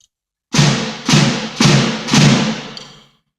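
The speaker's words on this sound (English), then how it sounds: "The flam, or falam, sounds like this." Four flam strokes land on a snare drum at an even pace, each a sharp, loud, close crack with a short rattling decay, heard alone.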